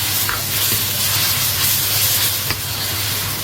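Vinegar splashed around the edge of a hot wok of stir-fried chicken giblets with chilies and celery gives a steady, loud hiss and sizzle over a low hum, with a few faint clinks.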